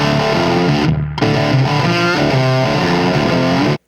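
Electric guitar with distortion, played through a speaker cab in an isolation booth and picked up by microphones, paired with a Torpedo Captor X load box; one steady run of chords and notes with a brief dip near one second, ending abruptly.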